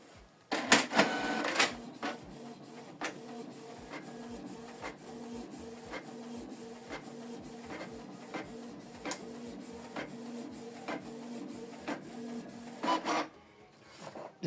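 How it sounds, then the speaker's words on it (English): A Canon PIXMA TS3350 inkjet printer runs a page with a loud start-up clatter, then a steady mechanical whir punctuated by regular clicks and ticks, ending with a final burst of noise. "So the document is printing."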